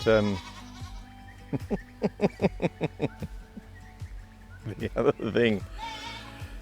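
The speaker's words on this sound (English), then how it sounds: "I think that goat's desperately trying to tell me something" A goat bleats in a rapid series of wavering, harmonic cries, near and loud, with a longer rising bleat after a short pause and low background rumble throughout.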